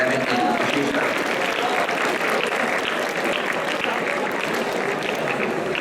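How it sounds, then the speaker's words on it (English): Sustained applause from a school class audience at a goodwill club program, a thick, even wash of clapping throughout, with some voices mixed in beneath it. "Please, a round of applause from 11E."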